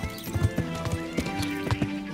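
Horse hooves clip-clop in a quick, regular rhythm over a steady background tone, close and clear, in the video game Kingdom Come: Deliverance.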